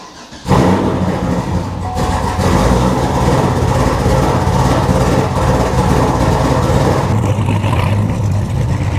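A new Ford Bronco's large engine cranks and catches, then settles into a loud, steady rumbling idle with a few light revs. It is close, with no talking.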